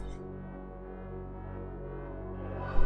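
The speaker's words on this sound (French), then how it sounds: "Cette musique de Darktide là, elle est complètement folle." Music from the video game Warhammer 40,000: Darktide, a dark sustained drone with layered low tones, held steady and fairly loud before a brief rise at the end.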